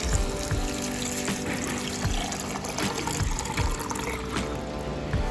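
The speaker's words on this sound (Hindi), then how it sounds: "you have to pour water over it" Water poured from a container into a jar of onion peels, a steady trickling gush with splashing and bubbling that continues alone from start to finish.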